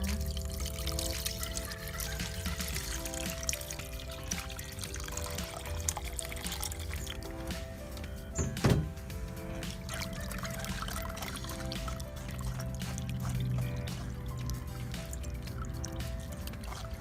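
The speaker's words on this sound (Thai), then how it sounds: "เมื่อเพื่อนๆ คั้นเสร็จแล้วก็ใช้กระชอนกองเอาน้ำมะกรูดเลยนะคะ" Freshly squeezed kaffir lime juice, made for homemade dishwashing liquid, is strained through a sieve in a steady, close trickle and drip of liquid, with one brief knock partway through and no talking.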